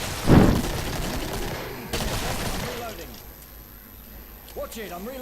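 Gunfire in Killing Floor 2, a sharp loud burst of shots up front followed by scattered fire and game noise under excited talking.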